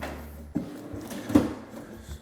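A self-closing drawer on a DIY build for a kids' room slides shut after a push, making one soft thud with a short rumble of the slide around it. It sounds close and fairly quiet, and no one talks.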